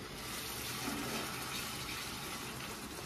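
Water used to rinse spices pours steadily into a pan of spice paste for a fennel katla fish curry, giving a continuous soft hissing splash with no pauses.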